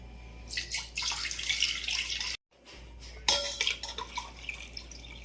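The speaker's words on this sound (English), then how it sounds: "So we are going to now put this water into this." Water splashes and trickles as it is poured into a glass jar holding squeezed lemon for homemade lemonade. The pour is close and bright, breaks off for a moment, then resumes with lighter splashing and drips, with no talking.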